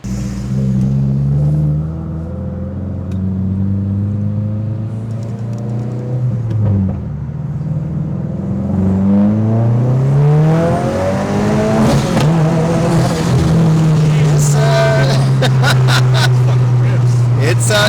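A Subaru WRX tuned on E85 fuel revs hard on a dyno, its engine climbing and falling through repeated loud, close pulls that end in a long sustained high-rpm drone with sharp pops and crackles toward the finish.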